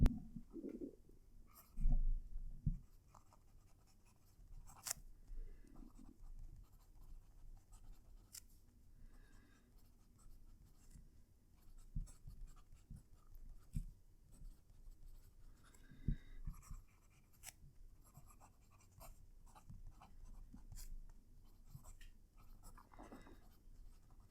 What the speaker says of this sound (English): this is another really nice pen, glides over the paper